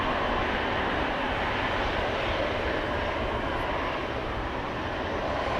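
Jet engines of a KLM Boeing 777-200 roar steadily at Amsterdam Schiphol Airport, a broad, even rumble of constant loudness from a distance, with no voices.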